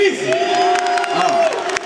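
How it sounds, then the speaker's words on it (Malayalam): A crowd at a myG Epic showroom inauguration cheers and whoops loudly, a sustained roar of voices with one prominent shout carrying over it. "ഒരു വലിയ കൈയടി പ്ലീസ്"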